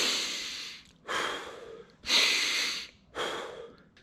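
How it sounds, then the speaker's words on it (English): A man breathes heavily to catch his breath after working on an oil change, making four loud, close, rasping exhalations separated by brief pauses. No words are spoken. "Let me catch my breath."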